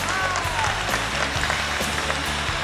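Studio audience applause welcoming the first job applicant onto a televised job-hunting show, a dense, steady clapping that fills the whole stretch at an even level.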